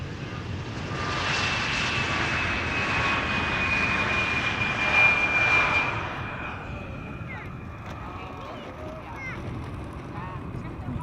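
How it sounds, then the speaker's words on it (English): Airbus A330neo jet arriving at Amsterdam Schiphol, a broad roaring rush with a whining engine tone that swells and then fades as the aircraft passes, with faint background noise after. "It's an A330 Neo coming our way."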